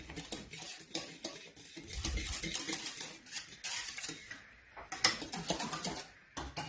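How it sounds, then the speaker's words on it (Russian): A spoon scrapes and clinks steadily against a pot on the stove while a butter mixture is stirred continuously, close and fairly quiet, with no voices. "Перемешивать не перестаю, чтобы не пристало ко дну."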